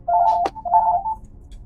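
In-game telephone call tone during a Skyrim Special Edition livestream, a steady electronic tone around two bursts with a sharp click between, close and moderately loud, with no talking over it.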